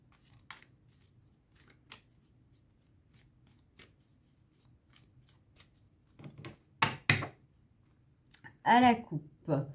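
Tarot cards are shuffled and cut in a string of soft, crisp riffling clicks at close range, growing busier near the end, with brief talk in between.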